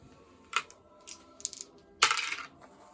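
Dice rolled during a board wargame, a few short clattering bursts on a hard surface followed by a longer rattling roll near the end, close and fairly crisp.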